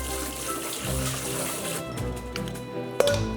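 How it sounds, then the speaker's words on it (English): Boiling hot water is poured over glass noodles for japchae, a steady close splashing stream that is briefly interrupted and then ends with a small clink. "I just put the boiling hot water"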